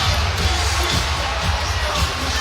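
A large basketball crowd inside Toyota Center murmurs and roars in a dense, steady wash of noise, with faint cheering in the mix.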